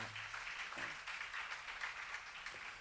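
Distant congregation clapping in a church during a sermon, a soft continuous patter of many hands, faint and even with no voices over it.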